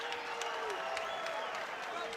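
A college basketball arena crowd applauds during play, a broad steady wash of clapping and cheering under a commentator's voice and squeaking sneakers.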